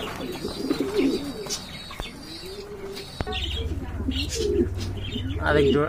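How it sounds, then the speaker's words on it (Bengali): Pigeons coo softly and repeatedly at a market stall where pairs of running pigeons are offered for sale, their calls mixed with chirps and the odd flutter of wings under nearby talk. "বন্ধুরা এই যে দেখেন আরেক জোড়া কবুতর"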